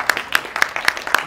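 An audience claps at a film promotion event for Jatt & Juliet 3, with about five sharp, evenly spaced hand claps standing out over a scattered background of applause.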